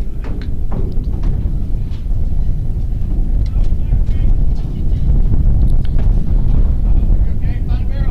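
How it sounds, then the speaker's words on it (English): Wind gusts buffet an outdoor microphone at a high school baseball game, a steady loud low rumble throughout with brief faint sounds from the field. "Wind gusting in here."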